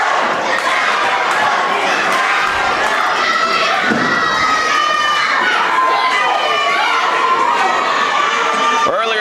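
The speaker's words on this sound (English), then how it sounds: "Crowd now getting hugely behind the magnificent one, Malico." A wrestling arena crowd roars and cheers continuously at high volume, a dense wash of shouting voices with swelling peaks and no breaks throughout.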